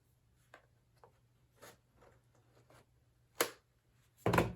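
Scissors snipping and slicing packing tape on a cardboard box, a scattering of short scratchy rubs and snips building to a couple of louder cuts and a final tearing rasp near the end, close and otherwise quiet.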